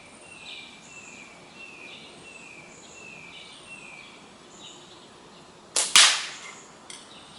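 A single sharp crack from a Magpie Hunter Lite air rifle stands out against quiet outdoor background with birds chirping, followed by a faint metallic tick about a second later.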